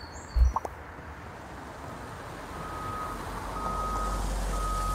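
A moving truck in the game Get Packed sounds intermittent high reversing beeps that begin about halfway through, over a steady low engine rumble, after a brief thump at the start.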